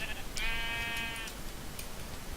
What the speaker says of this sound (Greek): Πρόβατα εδώ.